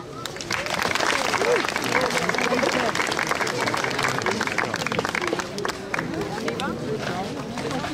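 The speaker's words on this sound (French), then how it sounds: "Merci encore, applaudissements." Audience applause at a horse presentation at the Beau Marché in Toucy, a broad steady wash of clapping from a crowd, mixed with hubbub and some voices throughout.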